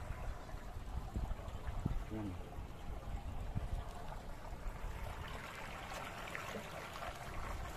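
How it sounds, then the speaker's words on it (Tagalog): Water flowing in and out of a fishpond sluice gate, a steady rushing trickle with rough wind noise, and a person speaks briefly over it. "Dito pumapasok yung tubig at lumalabas."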